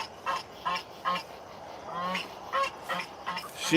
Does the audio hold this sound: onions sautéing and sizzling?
no